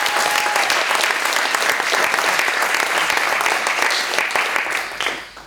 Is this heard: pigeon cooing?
no